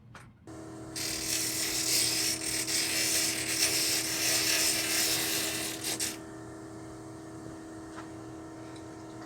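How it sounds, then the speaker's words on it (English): Serpentine stone on a dop stick is shaped against a 180-grit wheel. A steady motor hum sits under about five seconds of loud, even grinding up close, then the hum carries on alone. "I'm going to do almost all of my shaping over here at 180 grit."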